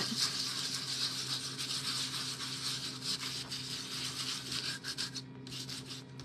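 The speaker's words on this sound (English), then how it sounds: "I'm going to get a little sander, a little bit of this, and we're just going to go over it a little bit" A small sander runs over a painted round bunny figure, giving a steady close rubbing, abrasive rasp with slight rattling that continues throughout.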